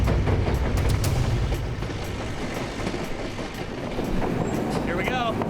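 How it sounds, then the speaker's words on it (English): A White Pass & Yukon Route train rumbles along the track near a cliffside tunnel, a dense continuous roar with rhythmic wheel clatter and a brief squealing tone near the end. "Front of the train snaking into that tunnel."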